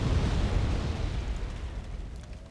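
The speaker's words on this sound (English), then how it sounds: "this giant rocket barrage that I'm dropping on top of them" Heavy rocket artillery barrage from Wargame: AirLand Battle, a loud continuous rumble of overlapping explosions at the start that slowly decays into a rolling, fading roar with no talk.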